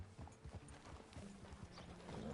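Horse hooves in Red Dead Redemption 2 clip-clop at a steady walking pace on hard ground, fairly quiet, with light ambient noise and no talking.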